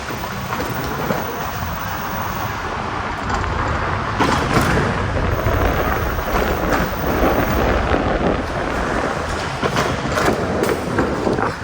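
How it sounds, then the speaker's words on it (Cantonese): Typhoon wind and heavy rain lashing a parking area at Shili Yintan, with trees blown down: a steady, loud, roaring rush of wind and rain with gusts that swell throughout, no voices. "又落雨，橫風橫雨咁樣去吹"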